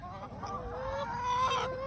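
Backyard hens cluck and make short tonal calls close by, several overlapping voices in a brief, fairly quiet burst with no talk.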